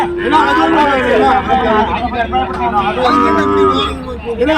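Cattle moo loudly and close at the Manapparai cow market, several long lowing calls overlapping amid the murmur of a busy crowd talking nearby.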